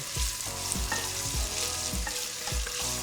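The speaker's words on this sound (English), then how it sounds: "Give that a stir through, and what we're looking for is those onions to cook down until they're sort of translucent" Onions frying in a pan for a kale and chickpea curry, a steady close sizzle broken by rhythmic scraping stir strokes roughly every half second.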